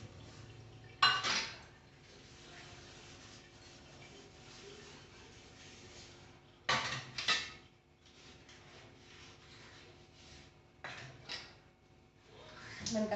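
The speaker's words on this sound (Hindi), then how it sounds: "पहले बर्तनों को धो लेती हूँ सबको।" Dishes, pots and utensils being washed by hand, soft rubbing and scrubbing punctuated by several sharp metallic clanks and clinks of pans and cutlery set down, fairly close and quiet between bursts.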